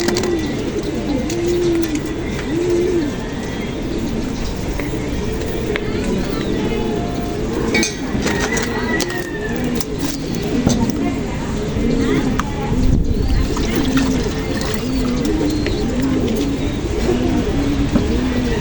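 Pigeons coo steadily in a racing-pigeon loft, repeated soft rolling calls close by, with someone talking over them throughout.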